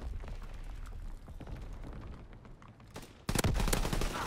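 Gunfire from a machine pistol in the World War II shooter Call of Duty WW2, with scattered shots early on and then a sudden loud, dense burst of rapid fire in the final second.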